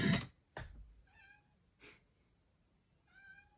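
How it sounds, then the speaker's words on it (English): A cat cries outdoors, giving two drawn-out meows a couple of seconds apart, fairly faint and distant, with a few soft thumps and rustles at the start. "There's a cat crying outside"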